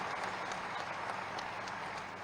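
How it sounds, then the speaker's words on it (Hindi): A crowd at a public welcome ceremony for the Uttar Pradesh chief minister in Saharanpur claps loudly and steadily, a dense, even wash of applause filling the whole moment without pause. "एक बार जोरदार तालियों के साथ स्वागत है"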